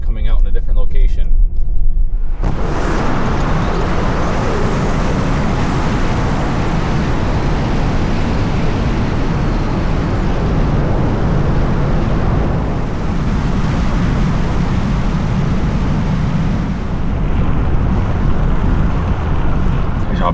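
A Volvo XC70 towing a trailer off-road through the woods, a heavy steady rumble of engine and tires on rough ground with wind buffeting the microphone. A voice speaks briefly at the start before the rumble takes over.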